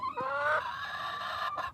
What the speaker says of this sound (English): Sorry, these chickens, golly, they're loud.